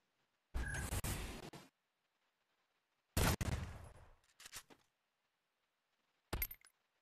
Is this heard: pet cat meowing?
no